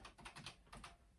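Keys on a ZX Spectrum +2 home computer keyboard are pressed in a quick run of soft, close clicks and taps, quiet and without speech.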